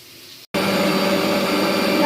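A kitchen mixer machine starts up loud after a brief silence and runs steadily, blending wheat flour for alu paratha dough with a constant whirring motor drone.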